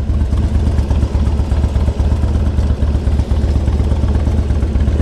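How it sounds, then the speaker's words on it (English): A 2003 Harley-Davidson Electra Glide Ultra idling close by, its steady loping engine pulse joined by a loose exhaust bracket cover rattling and clattering throughout, with no talking. "I'm gonna show you what that rattling is."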